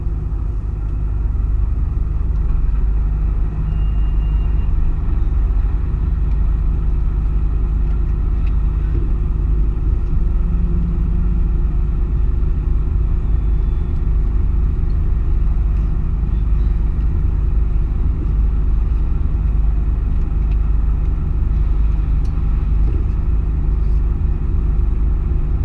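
A truck pulling a refrigerated trailer drives through the Mont Blanc tunnel, a steady, heavy low rumble of engine and road noise that holds level for the whole stretch with no talk.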